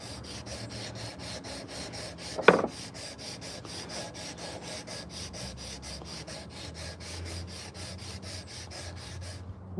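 Repeated rasping strokes of sandpaper on a hand-carved wooden spoon, a steady back-and-forth rhythm close up, with one sharp knock partway through and no talking.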